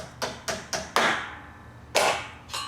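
Six sharp metallic taps from a hammer driving a stud into a truck deck, irregularly spaced, close and fairly loud, with quiet gaps between strikes.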